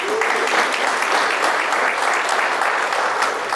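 Audience at an electric cooperative district meeting applauding, a dense, steady round of clapping from many people lasting several seconds.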